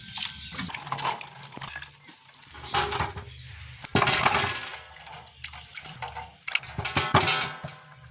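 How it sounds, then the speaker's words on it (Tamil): Repeated splashes and sloshing water with clunks of cassava roots knocking together, in irregular bursts as they are scrubbed and rinsed by hand. "மறுபடியும் கழுவி எடுப்போம்"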